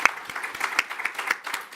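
Audience applause at a panel discussion on cancer control, a dense patter of many hands clapping with sharper individual claps popping out, steady and moderately loud throughout.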